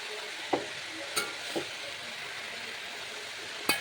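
Spinach curry being stirred with salt in a pan, a soft steady sizzle with a few scattered clicks and scrapes from the spoon, quiet and without voices.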